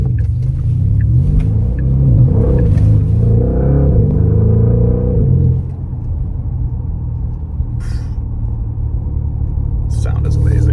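A 2026 Porsche Panamera GTS engine gives a loud, deep rumble that swells and wavers before settling into a steadier, lower idle-like drone, with brief faint noises near the end.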